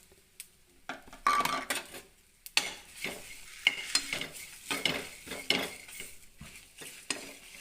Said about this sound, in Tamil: சோம்பு சேர்த்துக்கலாம். சேர்த்து நல்லா வறுத்துக்கலாம். கருவேப்பிலை சேர்த்துக்கலாம்.